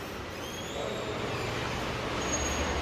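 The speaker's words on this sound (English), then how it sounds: "That noise you're hearing is rain." Steady broadband hiss of rain coming down hard outdoors in fierce wind, a constant close wash with a low rumble underneath and no voices.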